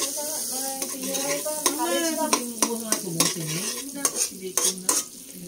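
Garlic sizzles in Star margarine in a pan, with busy stirring clinks and scrapes close up and a voice running over the cooking.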